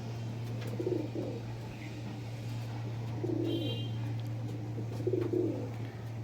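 Breeding and flying pigeons coo softly in repeated low phrases against a steady electrical hum, with faint chirps in between.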